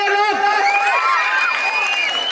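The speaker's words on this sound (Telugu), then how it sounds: "సో గట్టిగా క్లాప్." A crowd cheers and shouts, with children's voices prominent and only faint clapping, at a Republic Day dance event in Rajiv Park, Kadapa, staged by Minnu Dance Academy; lively, continuous and close.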